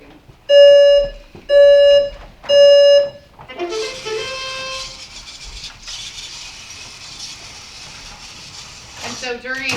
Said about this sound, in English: Here's the beeping again.